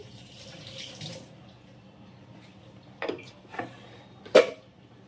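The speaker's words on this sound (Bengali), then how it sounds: "হাতটা ধুয়ে নিই" Hands are rinsed under a running kitchen tap after mixing food with salt and turmeric. A brief splash of flowing water comes first, followed by a few sharp clinks and knocks in a quiet room.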